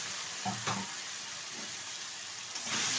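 Taro and potato pieces with turmeric stirred in hot oil in a pan, giving a steady close sizzle with a few scraping stir strokes over it.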